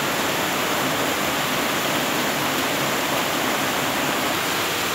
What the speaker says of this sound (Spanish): pero acá sí está lloviendo demasiado y no puedo hacer el video acá